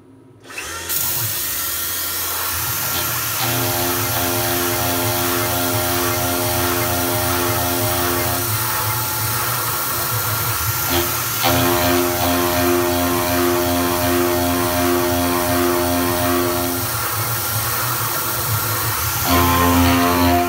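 A $10 indexable thread mill fitted with an AG60 insert cuts threads on a milling machine: a loud, steady machining whine with layered tonal hum runs continuously, shifting pitch briefly near the middle and end, with no voices.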